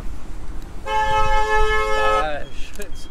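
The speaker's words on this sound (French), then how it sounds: "Désolé pour ce bruit de klaxon." A car horn on the road gives one loud, steady honk of about a second and a half, preceded by road rumble, with a voice speaking just after it.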